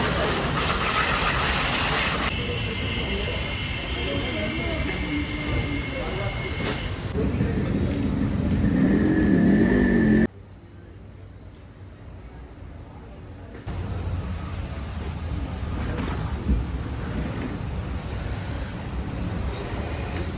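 A motorbike being washed with a pressure water spray at a wash station, the hissing jet loud and steady, breaking off abruptly midway and then resuming at a lower level.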